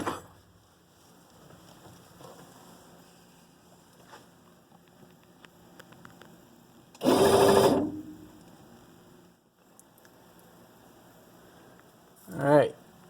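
The entry step motor on a salvaged Monaco motorhome runs in two short bursts, each a loud whirring grind about a second long, separated by quiet stretches.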